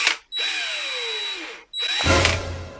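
A power drill runs close by in two bursts, each a loud whine that winds up and then slows down, the second ending in a rattling grind as the bit bites in.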